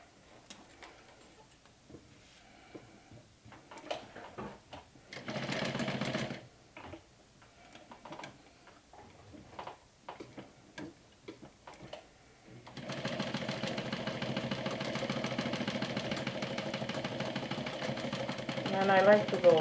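Sewing machine stitching a backpack hem in short bursts, then running in a long steady stretch, with a person talking quietly between runs.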